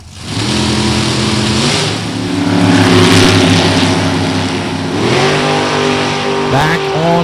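Drag racing cars launching at full throttle at an NHRA divisional event at Beech Bend Raceway Park, loud sustained engine roar rising and shifting in pitch as they pull away, with a track announcer talking over it.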